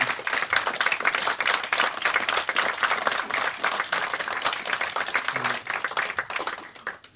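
An audience applauds steadily as a film director is welcomed to the front of a screening, dense clapping continuing throughout and fading slightly at the very end.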